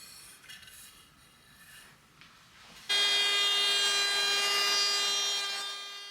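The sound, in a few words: small router cutting wood in shallow passes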